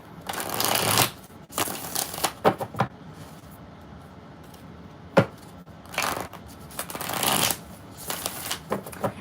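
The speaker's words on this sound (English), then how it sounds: "2 more shuffles." A deck of playing cards being shuffled several times in quick succession, each riffle a loud burst of rapid papery flutter, separated by short quiet pauses.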